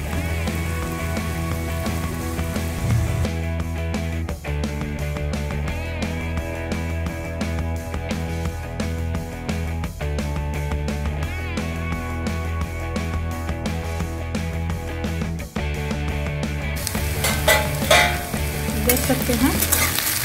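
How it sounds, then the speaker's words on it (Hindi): Potatoes fry and sizzle in a pan over a high flame, a dense continuous crackle with occasional stirring scrapes and a brief spoken remark partway through. "इसको मैं हाई फ्लेम पर पका रही थी"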